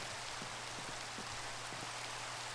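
Steady in-game rain hiss in Minecraft, a constant broadband wash with a few faint scattered drips, no talking.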